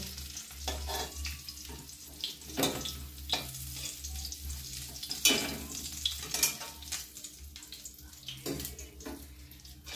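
Fish roe frying in hot oil in a pan gives a steady crackling sizzle with scattered sharp pops and stirring scrapes. It stays close and even throughout, with no talking.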